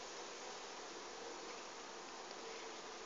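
Honey bees buzzing steadily in flight close to their hive, a dense, continuous droning hum with no break and no voices.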